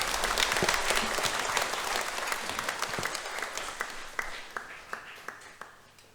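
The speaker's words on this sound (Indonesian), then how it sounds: "Tepuk tangan lagi untuk dia" Congregation applauding after a Sunday Mass homily in church, a steady burst of many hands clapping close by that gradually thins toward the end.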